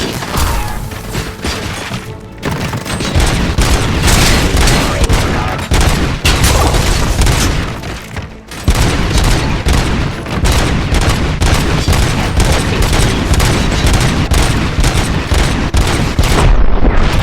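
Dense, continuous gunfire from the Robocop Rogue City video game, rapid bursts and booming shots layered loud and close for the whole stretch, with only brief dips in the barrage.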